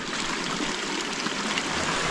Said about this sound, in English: A little beautiful waterfall